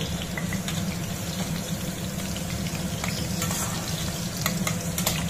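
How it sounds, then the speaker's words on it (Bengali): Bay leaves and dried red chillies tempering in hot oil in a kadai, a dense continuous sizzle and crackle close by with scattered pops and light stirring throughout. "তেজপাতা শুকনো লঙ্কা ফোড়ন দিয়ে দিলাম।"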